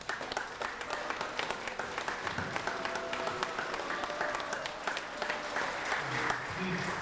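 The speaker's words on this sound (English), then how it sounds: "Please hold your applause." Audience applause at a public hearing, a steady patter of many hands clapping across the whole stretch, fairly distant and roomy, with murmured voices beneath it.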